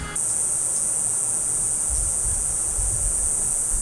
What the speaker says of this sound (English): Whatever bug that is that lives in my neighbor's plants, it's super annoying, makes that buzzing sound all day long